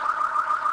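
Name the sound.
alarm going off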